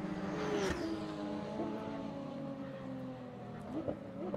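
Production Sports race cars lapping at a New South Wales championship meeting, a steady fairly distant engine drone with a couple of brief passing surges.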